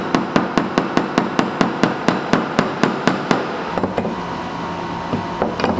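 Metal hammer tapping a release bearing carrier into an aluminum gearbox casting from a Triumph Spitfire, about fifteen sharp, evenly spaced close strikes, then quieter workshop shuffling.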